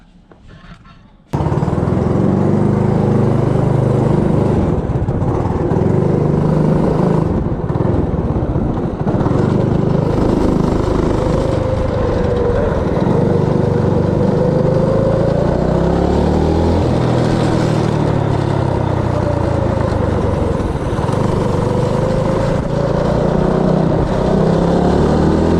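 A Predator 212 small engine fitted with a 10 tooth racing clutch starts up and runs loud and close for a long stretch, a steady raspy drone with shifts in pitch as it revs.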